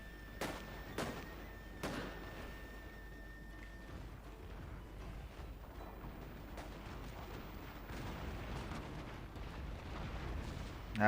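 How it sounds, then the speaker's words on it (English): Naval bombardment from warships in the Total War: Shogun 2 Fall of the Samurai strategy game: several sharp explosive blasts in the first two seconds, then a dense, continuous rumble of distant cannon fire and battle noise. "Give him another naval bombardment."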